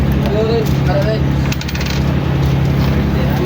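Coins drop and clink near the microphone, several bright metallic rings scattered over a few seconds against a steady background hum.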